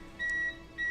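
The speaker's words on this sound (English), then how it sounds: "It's probably the surge protector that's beeping at me." A surge protector beeps during a power outage: two short, steady electronic tones, each lasting about a third of a second, separated by a brief gap and sounding close and clear with no voices.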